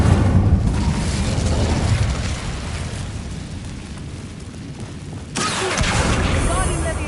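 The Incendio fire spell bursts in the Hogwarts Legacy video game, a whooshing roar of flame that swells and then fades, followed by a second rush of sound, with a voice speaking at the start.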